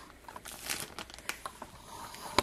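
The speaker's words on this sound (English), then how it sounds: "But here's our little bag. And I'm, all I'm going to do is fold this in." Paper treat bag for a Minnie-themed party favor being folded, quiet irregular crinkles and rustles close by with a sharper crackle near the end.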